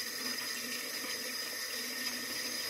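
Water runs in a steady, hissing stream while more water is added to shaving soap, continuous and fairly close with a bright, splashy edge.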